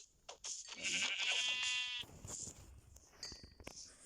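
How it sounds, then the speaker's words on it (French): Sheep in the Minecraft video game bleat in a few short, wavering calls, clear and close, with no talk over them. "Il y a un mouton gris."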